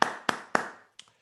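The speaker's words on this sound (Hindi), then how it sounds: "मैं चाहता हूँ अजय जी के लिए एक बार और जोरदार तालियों से स्वागत होना चाहिए" A few sharp hand claps welcoming a guest onto a panel, three loud evenly spaced claps followed by a softer, fainter one, then silence.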